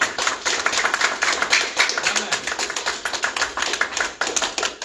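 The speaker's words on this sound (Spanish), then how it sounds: "aplauso." A church congregation claps in steady applause during a worship service, dense and fairly near, with no talking over it.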